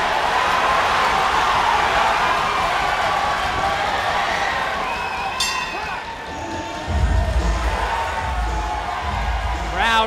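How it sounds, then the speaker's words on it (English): A rowdy arena crowd at a live championship boxing main event in Mississauga, Ontario, keeps up a steady roar of cheering and shouting, with a few louder swells and thumps near the end. "Crowd getting a little rowdy here for our main event tonight."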